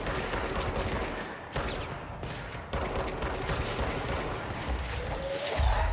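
Enemy rocket fire and explosions in the video game Control, a dense sustained barrage of blasts and gunfire rolling on loudly with sharp breaks between bursts.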